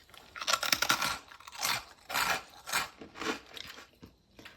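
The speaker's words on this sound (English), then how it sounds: "I've got my croutons, which are super crunchy" Crisp, loud crunches repeat every second or so as crunchy croutons are bitten and chewed up close, with no talking.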